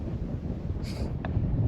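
Strong wind blows across an exposed rock top in Avon Valley National Park in the Perth Hills, a low, steady buffeting roar over the microphone with a couple of brief higher gusts.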